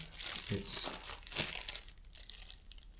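Plastic coating crinkles and crackles as a steel plaque is worked out of its box, a close, busy rustle that is loudest in the first second and a half, then thins to lighter crinkles.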